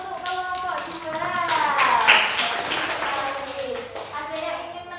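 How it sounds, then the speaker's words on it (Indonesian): Classroom applause for a student group after their presentation, a burst of many hands clapping that swells and fades over a few seconds, with voices heard through it. "Beri tepuk tangan untuk kelompok 2"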